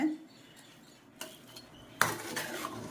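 A metal spoon scrapes and clanks against a pressure cooker while chicken biryani is stirred, giving a few sharp knocks and scrapes in a quiet kitchen.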